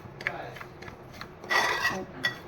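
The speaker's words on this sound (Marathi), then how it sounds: "मस्तपैकी आपण आता शिरा रवा आता भाजून घेतोय." Dry semolina (rava) being roasted in a pan for sheera: soft, intermittent scraping and rasping as it is stirred, with a louder, busier stretch of stirring midway through. No voices.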